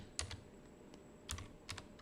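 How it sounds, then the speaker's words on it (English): Computer keyboard being typed on during an online math review class, heard as three short, light bursts of quick keystroke clicks spread across a quiet background, with no talking. "I am typing that in the chat for persons who did not see the first time"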